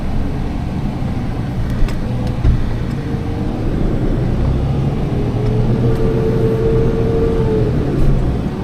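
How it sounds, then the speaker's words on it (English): A Suzuki Jimny JB23W crawls along an off-road trail in first gear, its engine giving a steady, loud, close low rumble with slight rises in revs throughout. "Go through this one in first gear"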